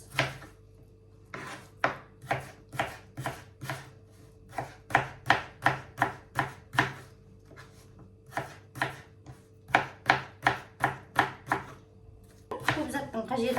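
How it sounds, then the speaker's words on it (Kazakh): An apple is chopped finely with a kitchen knife for a quick dessert: a long run of sharp, evenly spaced knife strikes on a board, close and clear, pausing briefly before a rustling scrape at the end. "Енді алмамызды осылай ұсақтап"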